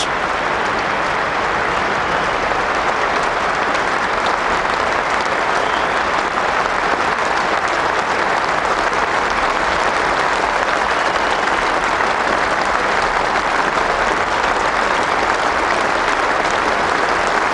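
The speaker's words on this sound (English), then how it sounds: "Fully deserving the standing ovation." A cricket crowd at Lord's gives a long standing ovation, dense steady applause holding at full strength from start to finish with no break.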